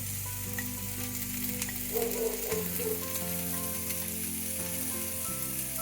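Small cut pieces of cooked tandoori chicken sizzle and crackle in a pan, a steady close frying hiss with a few stirring scrapes and no talk.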